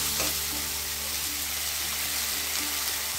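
A paste of ground dried chili, cumin, ginger, garlic and onion frying in hot oil for a mutton-fat ghugni, a constant close crackling sizzle with a couple of faint stirring knocks.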